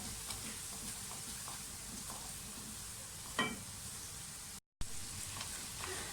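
Onions fry in a pan for a white chickpea curry, giving a steady soft sizzle with a few faint stirring scrapes, one louder clatter midway and a brief dropout near the end.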